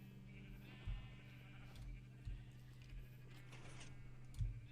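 Several sheep in a video game give bleats, spaced out and fairly faint over a steady low background hum, with no talking.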